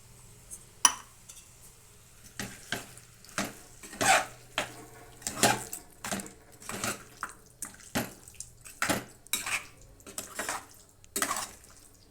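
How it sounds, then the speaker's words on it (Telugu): Yogurt goes into a biryani mixture in a pot, heard as a series of wet scraping and stirring strokes with soft clinks against the vessel at an irregular rhythm. "పెరుగు కూడా వేస్తున్నాను."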